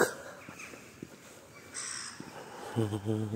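Several crows caw in scattered bursts, some near and some farther off, with a louder burst of harsh calls near the end.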